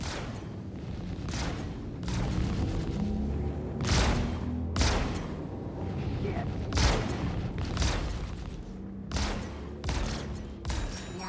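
Laser scatterguns fire from an Anvil F7C Hornet Wildfire fighter in Star Citizen, in a string of sharp, loud, evenly spaced blasts over a constant low engine drone.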